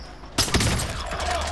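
Sniper rifle shot in Warzone: a sudden loud crack followed by a rumbling echoing tail and scattered follow-up shots.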